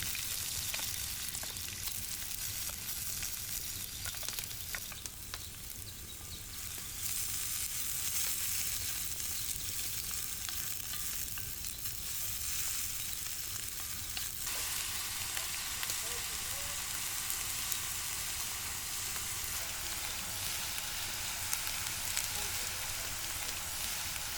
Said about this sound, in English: we first need to sear our white onions